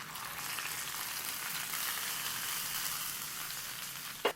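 A hot tempering of mustard seeds and fried shallots hisses and sizzles steadily as it is poured into a Kerala vegetable stew, a close continuous crackling fizz ending in a brief clunk.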